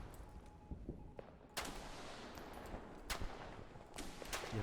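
Gunfire in a World War II first-person shooter video game, sharp shots cracking over a dense, rumbling battle background, several reports spaced irregularly across the clip.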